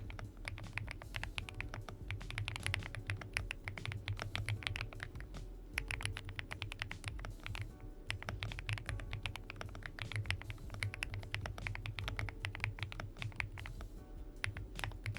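Steady, dense typing on a computer keyboard with a pebble-like clack, continuous rapid keystrokes throughout at a close, moderate level, with no talking.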